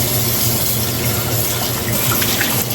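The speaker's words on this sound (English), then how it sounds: "we're gonna fill that up with water" Tap water runs steadily into a cooking pot being filled for ugali, a continuous close rushing splash with no talking.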